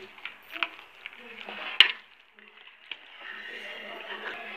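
A mashed potato mixture for a potato cake being stirred in a bowl: soft, irregular scraping and knocks with one sharper clink, close by, while someone talks over it.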